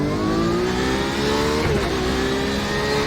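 A Porsche 911 RSR race car engine in the iRacing sim revs loud and close, rising and falling in pitch as it accelerates, with steady harsh tone and no voices.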